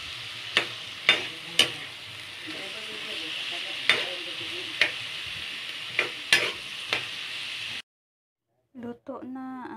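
Adobong bantiyong sautéing in a pan, a steady close sizzle broken by sharp stirring clatters for about eight seconds, then cutting out as a voice speaks briefly at the end.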